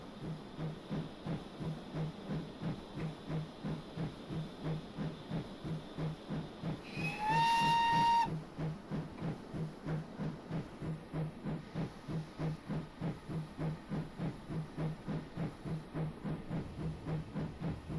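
Simulated train running in the Train Simulator game, a steady rhythmic clatter with hissing, broken around the midpoint by a short rising horn-like tone.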